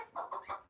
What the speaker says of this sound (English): she's just down there clucking away so her babies eat them